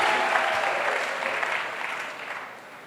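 Congregation applause at a church golden jubilee celebration: dense, steady clapping from a large crowd, loud and close, easing slightly in the final moments.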